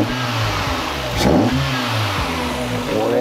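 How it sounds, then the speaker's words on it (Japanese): Water-cooled inline-four DOHC 16-valve engine of a Mazda Roadster NB6C with a Maxim exhaust manifold, running close by with a steady low throb and one brief rev swelling midway. "水冷直列4気筒 DOHC の16バルブのエンジンです"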